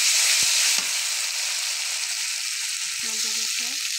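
Garlic paste drops into hot oil for chicken korma and sets off a loud, close, hissing sizzle that holds steady, with a couple of soft clunks at the start and faint tones near the end.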